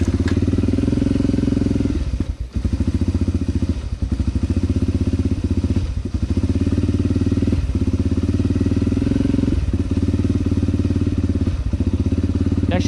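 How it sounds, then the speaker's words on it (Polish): A Yamaha TTR 125 motorcycle engine runs on choke, a loud, close, rapid thumping idle that briefly stumbles and dips several times before picking back up, with no talking over it. "Jak się rozgrzeje i nie będzie już potrzebował ssania, to on normalnie chodzi."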